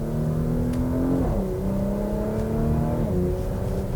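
A 2021 Porsche Macan Turbo SUV with a 434 hp engine revs steadily from inside the cabin, its pitch dipping twice as it is downshifted through the gears toward second, then climbing again under acceleration.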